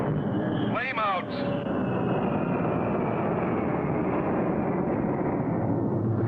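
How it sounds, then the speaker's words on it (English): A jet engine flaming out high over the ocean: a loud, steady broadband roar, with a brief descending whine near the start, continuing unbroken to the end. "Flame out. The most frightening sound for any jet pilot."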